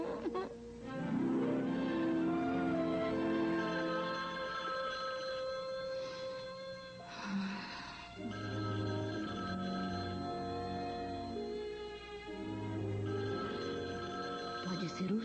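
An old-style telephone bell rings repeatedly in trilling bursts with short pauses, loud and close, as people talk over and between the rings.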